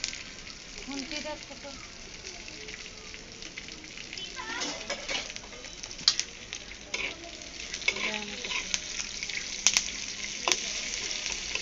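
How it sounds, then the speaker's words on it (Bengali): Dried shrimp stir-fried in oil with onion and green chilli, a lively close sizzle with repeated stirring scrapes and clatter that build toward the end. "শুটকি চিংড়ি তারপরে পেঁয়াজ কাঁচামরিচ দিয়ে আমি একটু নাড়াচাড়া করবো"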